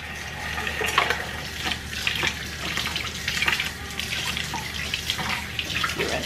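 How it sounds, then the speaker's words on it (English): A part is rinsed under a running tap at a dirty kitchen sink, steady splashing water with irregular spatters and clatters as the piece moves under the flow. "you rinse that part"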